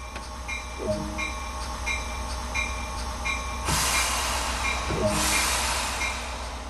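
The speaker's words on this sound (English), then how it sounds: "The train has reset, so it is possible to get moving again." In Train Sim World 2 on the Peninsula Corridor line, a train rumbles along with rhythmic wheel clicks over rail joints and a steady engine drone, swelling into louder bursts of hissing noise.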